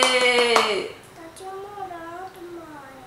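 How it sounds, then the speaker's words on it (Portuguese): Hand claps for a little girl at home, a brief burst of several quick claps with a voice, then soft child speech and humming continue after the clapping stops. "palmas para você"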